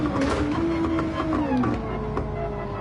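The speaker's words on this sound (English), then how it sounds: "Can hear the engine behind me" A racing car's engine drones just behind during an online race in Gran Turismo 7, a steady, fairly loud harmonic whine that rises and falls in pitch with throttle and gear changes, with no talking over it.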